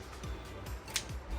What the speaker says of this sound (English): I want to cut this piece of ribbon just a little